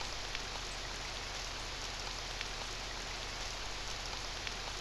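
Steady rain pours onto a rooftop in a video game dungeon escape, a dense even hiss with faint scattered drops, continuous and alone without voices.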